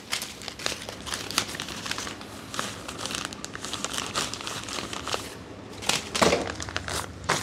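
Thin plastic pouch crinkling and rustling as it is handled, filled and sealed, a busy run of close crackles with a louder flurry toward the end and no talk.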